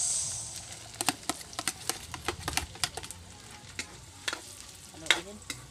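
Garlic, ginger and onion sauté in a pan for coconut-milk adobo, with rapid irregular scraping and clicking stirs over a low sizzle, moderately close.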